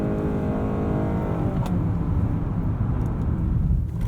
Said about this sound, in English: let's hear that engine and exhaust under full bore